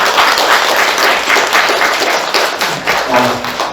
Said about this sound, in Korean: 우리 부활하신 예수님께 박수 한번 드리겠습니다.